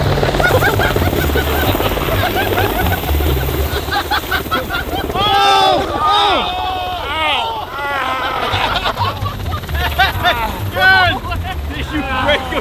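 Helicopter flying overhead in a snowy setting, a loud steady rotor drone under people talking and laughing nearby.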